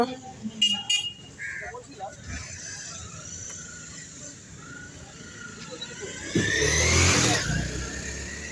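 Old vintage car engines rumble and rev past at an exhibition at a district stadium in Howrah, growing louder near the end, with a brief horn toot and faint talk in the background.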